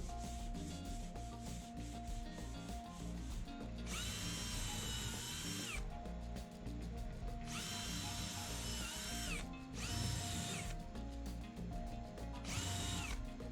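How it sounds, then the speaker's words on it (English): A power drill with a 4mm bit whines in several bursts, drilling a pilot hole in timber, with grinding and rubbing between runs, up close and steady. "So now I'm drilling out for the screw size."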